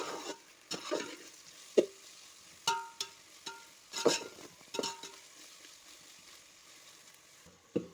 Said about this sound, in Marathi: व्यवस्थित सगळं मिक्स करून घ्यायचं आहे आपल्याला